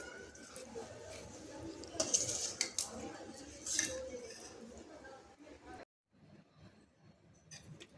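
Raw mango pickle gets mixed with warm oil and spices in a bowl, with a spoon clinking and scraping against it in irregular bursts, close and fairly soft, before a brief pause.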